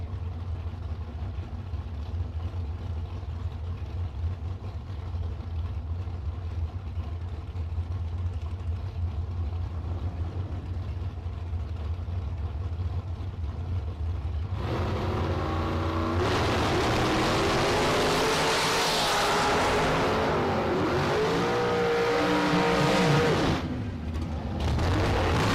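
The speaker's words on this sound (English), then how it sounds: "And that full-powered dragster." A full-powered dragster at a bracket drag race: steady low engine rumble for about fifteen seconds, then a sudden loud, broadband roar as the car launches, sustained and wavering before dropping off near the end.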